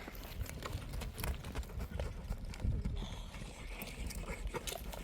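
A horse walks with steady, close clip-clopping hooves in an even rhythm, with faint outdoor background noise and no speech heard.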